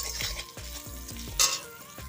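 Cumin, turmeric and Kashmiri red chili powder fry in a pan with a close crackling sizzle, and a spoon stirs in a quick regular rhythm with one louder scrape near the end.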